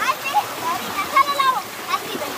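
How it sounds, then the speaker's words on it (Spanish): Water rushes and splashes steadily as a natural pool fills, a continuous close flow with gurgling, while people talk over it. "Se está llenando de agua."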